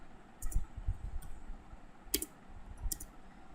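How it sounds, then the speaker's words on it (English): Keys on a computer keyboard are tapped to enter a router configuration command, producing a few sparse, close clicks, about four distinct taps over a few seconds with no talking. "Here we have to type no."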